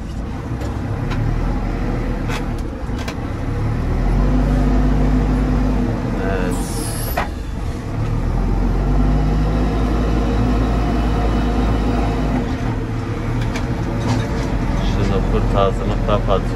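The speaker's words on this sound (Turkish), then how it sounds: "Kurt ağzıyla çekiyorum malzemeyi temele gitmemesi için." A JCB 4CX backhoe loader works while loading a truck, its diesel engine holding a steady, loud low drone with occasional clanks and revving. Someone talks over the machine.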